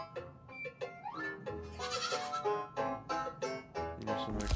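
Repeated goat bleats from the video game Goodnight Universe, a series of wavering, nasal cries in quick succession, loud and close, with game sound underneath.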